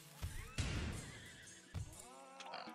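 A horse neighs in the video game RimWorld: a couple of loud, rough whinny bursts follow one another, with no talk over them.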